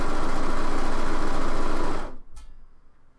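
Sewing machine running through fabric, a loud, fast, continuous stitching buzz that stops abruptly after about two seconds, followed by a faint click and quiet handling.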